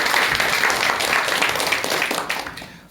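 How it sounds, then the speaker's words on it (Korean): A lecture audience applauds steadily as a speaker is introduced, the dense clapping going on and tapering off at the end. "큰 박수와 함께 강의 청해 듣도록 하겠습니다"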